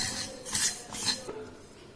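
Black sesame seeds being dry-roasted in a pan, with a few light scraping and clinking strokes of a spoon against the metal, close and soft.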